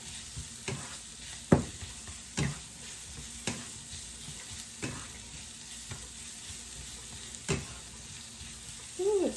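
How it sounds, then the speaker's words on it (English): Garlic sizzles steadily in a frying pan, a constant hiss with repeated sharp clicks and scrapes of stirring throughout, close by and alone. "now you're going to add your garlic. Cook it for about 30 seconds"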